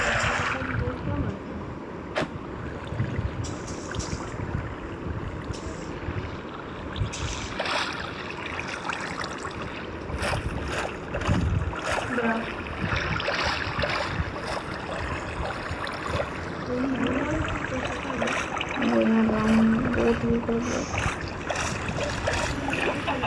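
Water laps and trickles steadily beside a Minecraft boat farm, with soft splashing movement running throughout and a voice talking over it.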